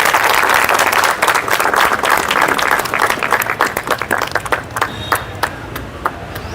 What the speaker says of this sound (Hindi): चाहूंगा एक बार और जोरदार तालियों के साथ सर का स्वागत करें